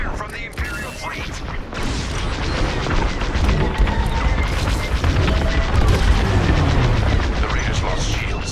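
Space battle in Star Wars: Squadrons as the Imperial fleet fires on a convoy: a loud, continuous roar of booming cannon fire and rumbling explosions with rattling mechanical bursts, building and staying dense.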